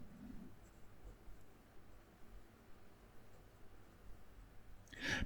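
Steady, faint scratching of a fountain pen with a 1.1 stub nib and red ink gliding across paper, a soft continuous rasp close by in a quiet room, ending in a short louder rustle.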